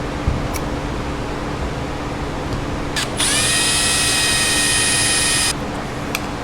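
Power drill boring out rivets on the faceplate of a 21-year-old Honda XR50 dirt bike, a brief tap and then a steady high-pitched whine of about two seconds over a humming background.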